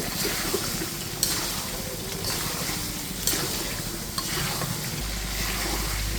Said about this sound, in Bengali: মাংসটা দিয়ে প্রথমে মশলার সাথে নেড়ে চেড়ে নিচ্ছি